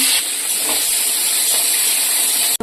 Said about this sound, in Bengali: দেখো ঘিটা গরম হয়ে গেছে, কড়াইতে দিয়ে দিলাম।